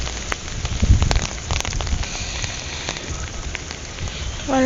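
Steady heavy rain hiss filling the scene, with low rumbling gusts and occasional drops, continuous throughout.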